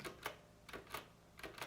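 Gentle, deliberate key presses on a Philips G614 mechanical keyboard, giving about six soft, close clacks spaced in rough pairs with quiet gaps between them and no voices.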